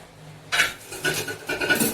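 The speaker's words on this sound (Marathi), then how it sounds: "तवा आहे तो उतरून ठेवते आता" A metal griddle pan lifted off a kitchen stove and set down, giving a few short scraping, clattering contacts in close succession, near and moderately loud, with no talking.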